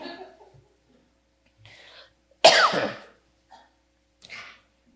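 A woman in a church audience gives one strong cough amid faint murmurs and small throat sounds, followed by a few softer breathy noises nearby.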